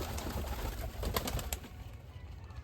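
Pet pigeons kept in a home loft coo softly, a few low, rounded calls repeated over a faint background hiss, with no talking.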